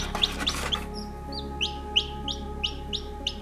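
A newly hatched chick peeps in a rapid run of bright, high chirps, about eight evenly spaced calls heard close and clear over a low steady hum.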